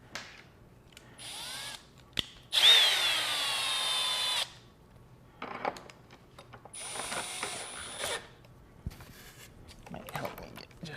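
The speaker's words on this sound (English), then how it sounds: "Let's see if I can drill this in a little better." A power drill drives a screw into foam in short whirring bursts, the loudest lasting about two seconds, followed by lighter rattling and handling noises.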